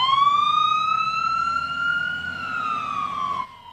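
Ambulance siren with flashing lights on an emergency vehicle, a loud, steady wail that rises and falls slowly, sounding close and continuous before cutting off near the end, with no talk.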